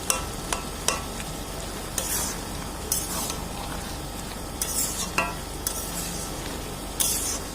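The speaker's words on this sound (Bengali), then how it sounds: "মটর আলুটাকে মশলার মধ্যে ভালো করে একটু মাখিয়ে নিচ্ছি, নিয়ে একটু কষিয়ে নিয়ে" Peas and potatoes in spices get stirred in a hot pan, a steady sizzle broken by repeated sharp scrapes and knocks of the spoon against the pan at irregular intervals; no voices.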